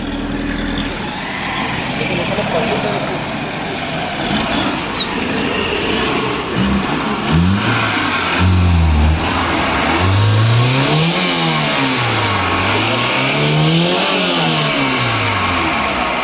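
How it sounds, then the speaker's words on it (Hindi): A second-hand car's engine idling and then revving repeatedly, rising and falling in steady up-and-down sweeps, loud and close, while people talk nearby. "गाड़ी ऑन हो गया"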